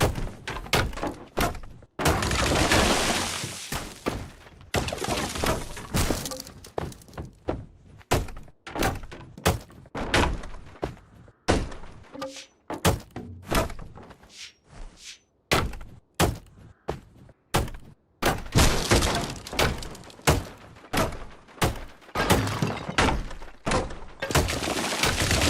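A wall is smashed apart in the Deconstruction Simulator game: dense series of loud, heavy thuds and crashing impacts, some bursts of crumbling debris, repeated irregularly throughout.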